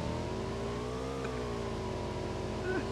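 A car pulls away under a steady, droning engine note that holds a close, even pitch throughout the short stretch, with a slight rise and fall in tone near the end.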